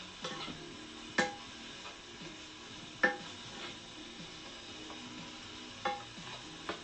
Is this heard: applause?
no